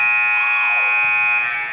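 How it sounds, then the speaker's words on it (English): A halftime buzzer sounds loud and close at a girls' varsity high school basketball game, one sustained electronic tone that holds steady before it starts to fade. "That is a halftime buzzer."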